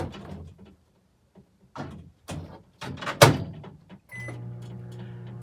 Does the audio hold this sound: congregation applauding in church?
no